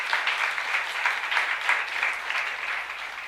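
A church congregation at a young adults' worship service claps together in a steady, sustained round of applause, moderately loud and filling the room, with no speech over it.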